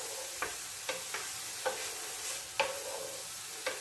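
Sliced onions fry in a pan for a Kerala vegetable mezhukkupuratti, giving a steady loud sizzle broken by repeated scraping stirs of a spoon, close up, with no voice.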